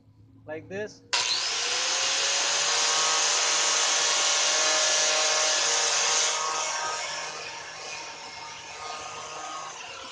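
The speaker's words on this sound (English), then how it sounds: "Just kind of grind it really slowly and smoothly" A power grinder sands down a thin layer of Bondo body filler on a car body kit, a loud steady whine that holds for several seconds and then eases off. A brief voice comes just before it starts.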